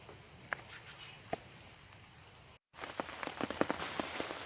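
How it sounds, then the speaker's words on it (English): Rain falling at a riverbank fishing spot, a soft patter of drops on surfaces with a few sharp taps, cutting out briefly and then returning heavier and denser. "Here comes the rain."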